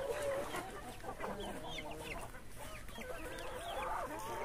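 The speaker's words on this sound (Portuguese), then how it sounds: "Tá bonita as galinhas, gente, olha." Chickens on a rural Brazilian smallholding cluck and squawk in a busy overlapping chorus, moderately near, with a rooster-like call and faint background voices.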